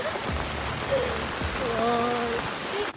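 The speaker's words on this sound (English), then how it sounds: "It's so raining!" Steady rain patters on a hard surface at a lake, a close, even wash of drops, with a faint muffled voice and a brief tone in the middle.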